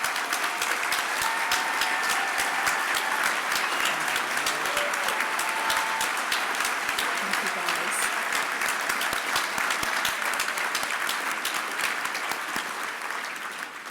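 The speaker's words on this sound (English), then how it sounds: "let's give them a round of applause" An audience at a community foundation's 35th anniversary celebration gives a long, steady round of applause for the team, dense and even throughout before tapering slightly at the end.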